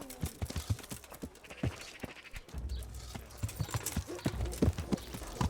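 Horse hooves clip-clopping in Kingdom Come: Deliverance, a steady run of close hoof strikes with a muffled game background underneath and no talk.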